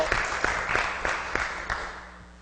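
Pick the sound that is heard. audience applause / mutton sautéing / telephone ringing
audience applause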